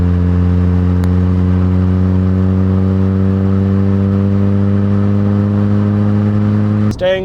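A hot hatch with a revvy 1.5 VVTi engine and short-ratio five-speed gearbox holds a loud, steady engine drone with strong harmonics throughout, heard from inside the car, ending with a brief rising rev near the close.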